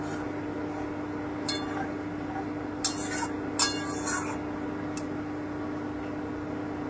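Magur fish curry with ground garam masala is stirred in a pan, with a few sharp clinks of the utensil against the metal over a steady low hum, isolated and spaced apart.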